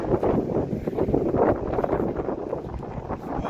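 Cool wind gusts across a hilltop in the Malnad hills of Karnataka, roaring loudly and continuously into the microphone with rustling buffets and no speech.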